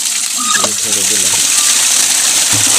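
Water from an irrigation pipe gushes steadily onto a spiny gourd field, a loud, constant broadband rush with a few low voiced sounds briefly over it.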